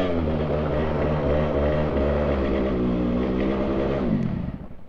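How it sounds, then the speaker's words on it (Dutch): A grocery-run scooter engine idles roughly and noisily, its steady harmonic drone wavering unevenly, loud and close, before dropping off at the end. "Volgens mij maakt die scooter een beetje lawaai."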